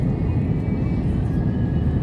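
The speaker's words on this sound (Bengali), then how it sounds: "প্লেনটি ল্যান্ডের জন্য ল্যান্ডিংয়ের জন্য প্রস্তুতি নিচ্ছি" Steady low drone of an airplane engine heard from inside the cabin as the plane prepares to land, constant and even throughout.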